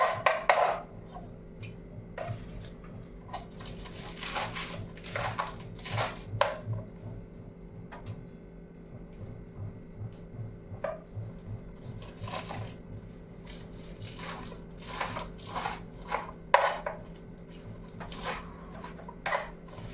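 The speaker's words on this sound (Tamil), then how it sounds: "கீரையை பொடியாக அரிஞ்சிக்கலாம்." Ponnanganni greens are chopped finely with a knife, giving a quiet, steady run of rapid taps on a board that continues with brief pauses and faint clatter around it.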